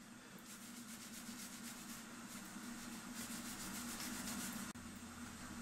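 A part from a Master Crafters swinging girl clock gets a quick brush down, giving a steady, soft scratchy rubbing of bristles, close and quiet, with no voices.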